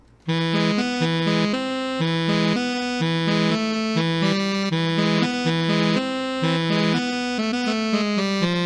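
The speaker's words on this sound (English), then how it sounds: "Anyway, I've got our little keyboard riff recorded." A keyboard plays a steady, repeating riff of clear sustained chords and bass notes, loud and up close, with no voices.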